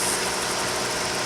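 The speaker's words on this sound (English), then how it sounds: "the background noise. It's the generator," A generator runs steadily in the background of a home kitchen during canning, a continuous mid-pitched engine drone with broad hiss, with fans also going, and no talk over it.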